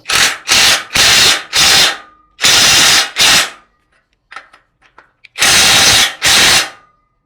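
Short, loud bursts from a power tool drive a CR-MO socket tight, arriving in two quick clusters of buzzing pulses separated by a quiet gap with small clicks and handling noises.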